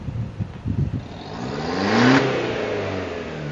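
A Toyota Tiger D4D diesel pickup being tuned at a garage to fix black smoke revs up loudly up close, its engine climbing to a sustained high roar and then holding steady after some rough idling knocks.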